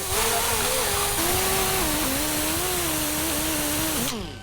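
An angle grinder fitted with a poly disc cleans up strap steel, a loud, close, continuous whining drone whose pitch wavers as the disc bites, running steadily before spinning down at the end.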